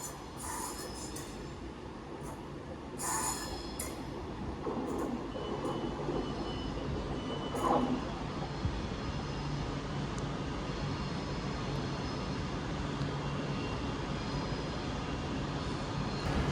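Train rolls slowly into London Euston station, a steady rumble of wheels and carriages with occasional faint squeals and clanks under the station's wide ambient echo.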